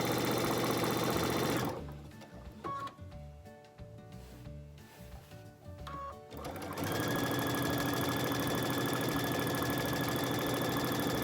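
Sewing machine stitching fabric along the presser-foot guide while piecing a quilt block, running steadily and loud, pausing in the middle for a few seconds of lighter handling noises before resuming.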